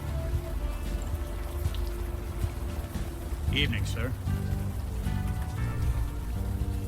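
Steady rain patters across a night scene in the video game Unavowed, a constant hiss under a brief spoken greeting and quiet ambient tones.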